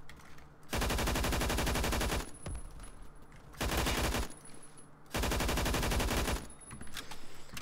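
Sustained bursts of light machine gun fire in a first-person shooter on the Mirage map, three long loud rattling volleys separated by short pauses, close and dominant.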